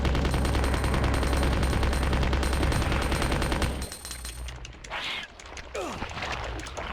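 Gunfire in the Resident Evil 2 video game: a dense, continuous burst of loud shots for about four seconds, then quieter game sounds with a few sweeping effects.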